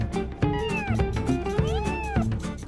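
A black kitten, a newly found stray, meows repeatedly in rising and falling calls, close and fairly loud, with a few short gaps between cries.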